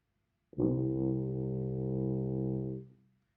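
A tuba sounds one low, steady sustained C for a little over two seconds, rich and buzzy, then fades out, played alone.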